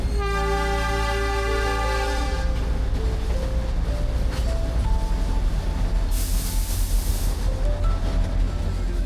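The Matheran toy train rolls along its narrow hill track, opening with a sustained tonal horn blast that fades after about two seconds into a steady rumble of wheels and carriages, with a brief hiss midway.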